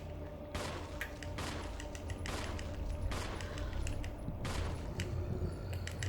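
Gunfire from the Resident Evil video game on GameCube: a series of loud, sharp shots spaced about a second apart, each with a short ringing tail, over a constant game background with no speech.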